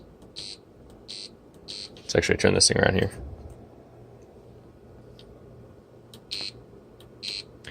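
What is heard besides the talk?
buzzer triggered by button press on a circuit board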